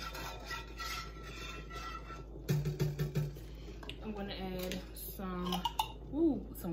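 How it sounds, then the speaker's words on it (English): Whisk clinking and scraping against a pot while stirring a creamy shrimp pasta sauce, a run of rhythmic metallic taps in the middle with a voice talking over and around it. "you're gonna need a whisk for this. You're gonna need a whisk. Gonna stir it."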